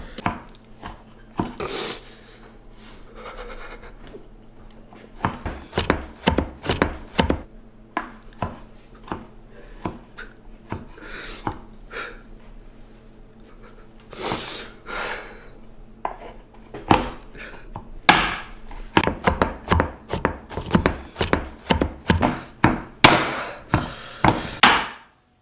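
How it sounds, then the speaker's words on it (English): A knife chops food on a wooden cutting board in irregular bursts of sharp, close thwacks, sparse at first and then a fast, dense run of strikes toward the end. "we're going to finish chopping these up."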